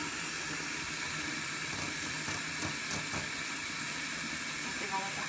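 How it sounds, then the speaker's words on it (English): Tap water running into a cooking pot at a kitchen sink, a steady and fairly faint rushing hiss that continues without a break. "And I'm just filling up my pot."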